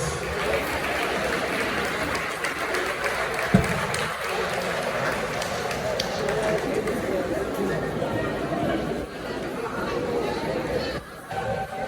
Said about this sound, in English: Let's give them one more round of applause,